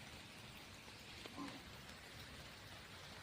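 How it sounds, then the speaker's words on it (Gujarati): Steady rain falls throughout as a soft, even hiss of drops on surfaces, with one brief louder patter near the middle and no voices. "જોઈ શકો છો વરસાદ પાછો ચાલુ થઈ ગયો છે"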